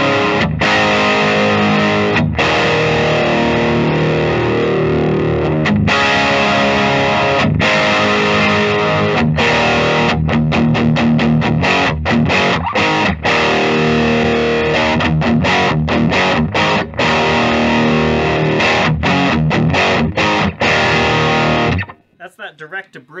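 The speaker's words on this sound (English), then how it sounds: "Now let's try this with a little bit of distortion." A 2021 Gibson Les Paul Blood Moon satin black cherry electric guitar plays through heavy distortion on the bridge pickup, with crunchy sustained chords and choppy muted strums, loud and continuous before cutting out at the end.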